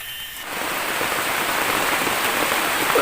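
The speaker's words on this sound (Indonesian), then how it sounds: "Nambah deras hujannya." Heavy rain begins pouring within the first half second and then holds as a dense, loud, steady hiss of drops drumming on surfaces around a treehouse, with no talking.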